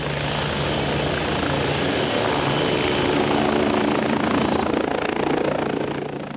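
Police surveillance helicopter flying overhead during monitoring of travellers heading to a festival, a loud, continuous rotor and engine roar with a steady low beat that swells slightly toward the end, heard alone.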